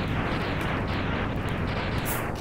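Cannon fire in the SNES video game Mega Man X, a dense, continuous rumbling blast with repeated booming bursts layered over one another, loud and unbroken throughout, with no voices.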